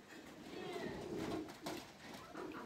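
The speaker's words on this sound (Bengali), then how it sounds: "কবুতরগুলো এখনও ভিতরে আছে অনেকেই, আবার অনেকেই গোসল করার জন্য ব্যস্ত, অনেকে আবার থামে উঠে গোসল করতেছে" Pigeons coo in a steady, overlapping murmur while bathing outdoors in the rain, with a soft wash of rainfall hissing behind the low throaty calls throughout.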